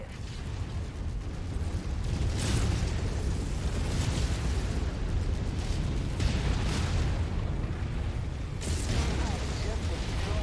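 Explosions rumble and burst in the video game Vigor as a mech is destroyed, loud and broadband, with several swelling booms over a constant dense roar.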